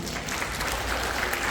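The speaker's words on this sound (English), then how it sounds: "Give her a round of applause." Steady applause from a crowd at a vacation Bible school vote of thanks, continuous clapping filling the whole moment without a break.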